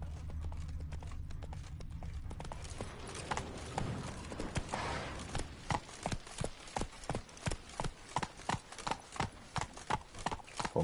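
Clip-clopping hooves from Roach, the horse in The Witcher 3, begin after a brief muffled rumble and settle into a steady, even gallop-like rhythm of distinct hoof strikes, up close and fairly loud.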